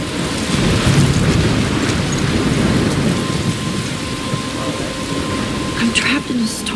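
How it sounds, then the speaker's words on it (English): Heavy, steady rain pours through a thunderstorm in the game Life Is Strange, with rolling thunder rumbling low under the downpour throughout. "I'm trapped in a storm?"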